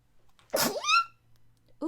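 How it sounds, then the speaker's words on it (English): One sudden, loud sneeze close to the microphone with a rising voiced tail, amid a quiet room hum, followed by the start of speech. "that sneeze came from nowhere"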